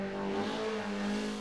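A Mazda race car laps Mount Panorama at Bathurst, its engine a faint, steady droning hum with slight shifts in pitch, heard alone and at a distance.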